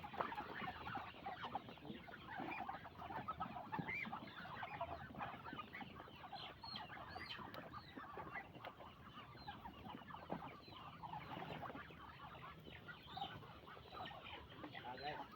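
Several chickens clucking and chattering continuously nearby, a busy overlapping flock with occasional louder calls and faint voices in the background.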